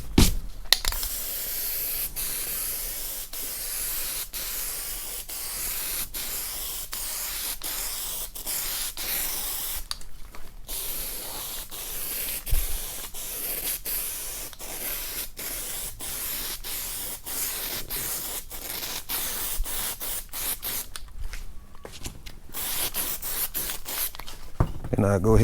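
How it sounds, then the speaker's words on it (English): Loctite spray adhesive hisses onto fabric and foam for a sun visor in a long run of close, steady spray passes broken by brief pauses and small clicks, with no talking. "I'm gonna use some Loctite this time."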